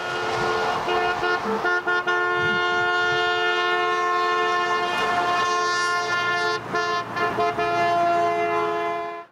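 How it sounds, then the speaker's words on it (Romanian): A retro car carrying Santa Claus through the festive streets of Chișinău, its horn sounding loud and close in long sustained blasts with brief breaks, the car's motion and street noise underneath. "Moș Crăciun s-a plimbat cu o mașină retro, claxonând trecătorii."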